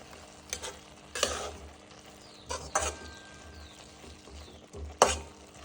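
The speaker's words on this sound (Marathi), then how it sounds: "थोडासा शेंगदाण्याचा कूट घालू तर ते मिक्स करून घेऊ सगळ्या भाजीमध्ये" Spring onion greens bhaji with crushed peanut powder being stirred in a pan: several distinct scraping strokes at irregular intervals over a low, steady sizzle, close by and moderately loud, with no talk.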